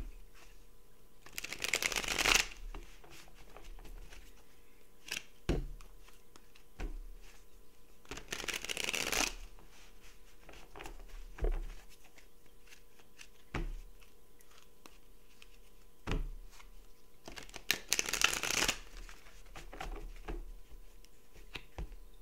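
Tarot archetype cards are shuffled close by, with three crisp riffling bursts and soft taps and clicks of cards being handled between them.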